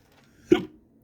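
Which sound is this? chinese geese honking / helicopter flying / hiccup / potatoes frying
hiccup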